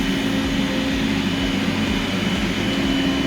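Conquest SDS85E-C cleaning machine running with its suction switched on, giving a loud, steady whirring drone with a constant tonal hum and no speech over it.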